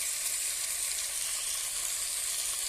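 Small darka fish, a type of chuno fish, frying and being stirred in a pan in a village kitchen, giving a loud, even, continuous sizzle with no voices over it.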